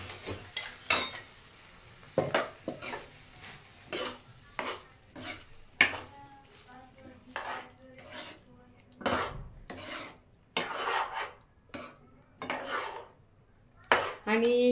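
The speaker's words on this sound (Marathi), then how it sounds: "तर मसाल्याची ग्रेव्ही आपण बनवून घेतली आहे, ती आता ह्या भाजीत घालून घेऊया." Spice gravy is stirred into Bhogi vegetable in a pot, giving repeated scraping and clinking spoon strokes against the metal in an irregular rhythm, close and moderately loud.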